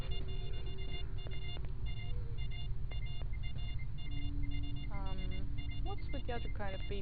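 Repeated electronic beeps in S.T.A.L.K.E.R. Lost Alpha sound in short regular bursts over a steady low game hum, with a rising warbling tone and denser chirps near the end, while a person talks throughout.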